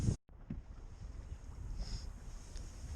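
Wind rushing over a sailing boat under way in a tidal channel at about 3 to 4 knots, a steady broadband buffeting on the microphone after a brief dropout, with low gusty rumbles throughout and no talk.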